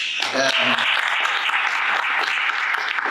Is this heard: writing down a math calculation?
no